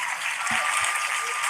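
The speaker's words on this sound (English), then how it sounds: "You hear how they clapping?" An audience claps continuously in a played-back recording, a dense, even patter of many hands with no breaks, heard at moderate volume and somewhat thin and distant.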